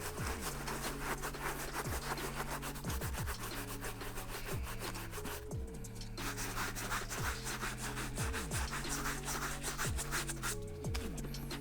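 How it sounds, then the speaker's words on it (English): Mesh brush scrubbing the suede on Jordan 1 sneakers in circular motions, giving a continuous close rough rubbing with a rhythmic back-and-forth swish that repeats steadily throughout. "We're going to be using our mesh brush right here and we're going to be resetting the nap by brushing it in circular"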